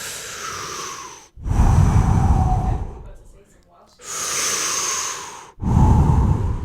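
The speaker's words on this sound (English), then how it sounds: "So I want everybody listening to just take a deep breath." Two long, deep breaths drawn in and let out close up, each inhale a broad airy rush with a softer exhale trailing after, with a brief quiet gap between them and no talking.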